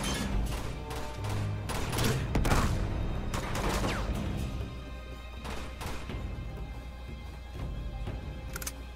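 Rapid bursts of pistol fire and impacts ring out in Uncharted 2: Among Thieves, dense and loud with crashes layered over a constant game soundtrack for the whole stretch.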